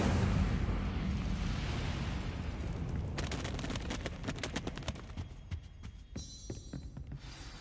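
Incendio fire spell cast in Hogwarts Legacy, a loud rumbling whoosh of flame with a heavy low roar, breaking into crackling bursts that trail off.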